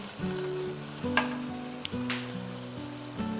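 Onions and vegetables for stuffed bell peppers cook in a pan, a steady close sizzle with a few clinks and stirring scrapes, no talk.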